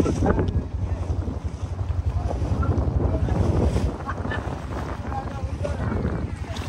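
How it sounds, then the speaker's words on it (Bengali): Cool wind gusting strongly into the microphone over the open water of Chalan Beel wetland, a constant rushing roar with some talking mixed in. "এই বাতাস মন ছুঁয়ে যাচ্ছে"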